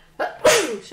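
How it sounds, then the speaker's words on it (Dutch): A person sneezes once, close and sharp, then gives a short spoken exclamation right after it. "Ik moet niezen."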